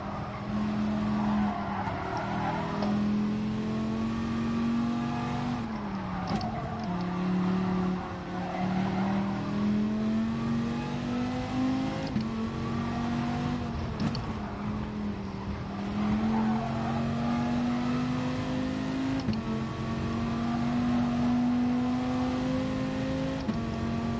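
A race car in a racing game holds fifth gear lap after lap, its engine a loud, sustained drone that rises and dips slightly in pitch through corners, with occasional faint tyre squeal.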